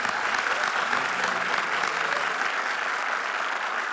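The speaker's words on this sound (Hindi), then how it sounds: "थैंक यू, जोरदार तालियां।" Studio audience applause on a TV comedy show stage, a steady, dense burst of clapping that stays loud and even throughout with no talk over it.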